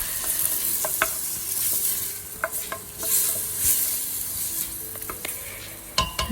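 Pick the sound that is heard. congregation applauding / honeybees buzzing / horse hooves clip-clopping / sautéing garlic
sautéing garlic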